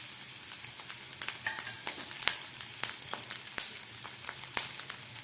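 Garlic, ginger and chopped capsicum sizzle steadily in hot oil, a dense continuous frying hiss dotted with sharp pops and crackles throughout, close and fairly loud, with no voices.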